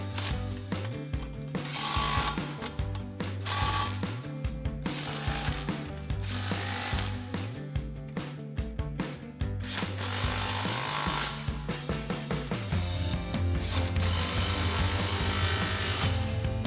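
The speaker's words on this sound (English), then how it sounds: "we're going to grab our impact 15mm socket and tighten all those down" Impact wrench with a 15mm socket tightening aftermarket exhaust clamps on a 2024-2025 Mustang GT cat-back install, loud repeated rattling hammering bursts in close succession, with no talking.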